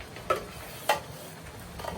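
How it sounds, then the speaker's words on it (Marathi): Onion and tomato puree being sautéed for party-size chole, with two sharp spoon scrapes against the pan over a low, steady sizzle; no voices. "तर आपण आता हे छानपैकी भाजून घेणार आहोत."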